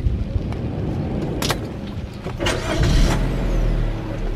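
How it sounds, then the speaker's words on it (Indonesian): A Daihatsu Sirion starts up during an Indonesian test drive, heard from inside the cabin. A few clicks and knocks come first, then the starter cranks and the engine catches into a low, steady idle rumble. "Kita nyalain dulu mesinnya."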